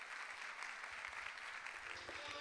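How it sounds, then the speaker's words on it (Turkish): A crowd applauds at a university fashion show, steady clapping heard faint and distant throughout. "Alkışlarınızla onları da uğurluyoruz sahneden."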